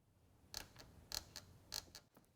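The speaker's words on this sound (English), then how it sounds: "Creaking noises occur as a result of the stick-slip effect." Test door panel creaking from stick-slip friction, three faint pairs of dry creaks in an even rhythm, heard alone and close in a quiet room.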